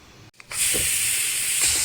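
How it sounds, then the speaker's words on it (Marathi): A kitchen pressure cooker cooking ambadi greens bursts into a loud, steady, high steam hiss after a brief quiet moment. The hiss stays strong and close to the end. "ढाकण लावते कुकरला। 2 शिट्ट्या देऊन घ्यायचे आहेत आपल्याला।"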